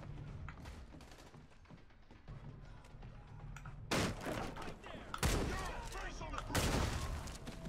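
A shotgun fires in the Redeemer video game, several sharp loud blasts arriving in the second half after quieter scuffling and hits, with people talking in the background.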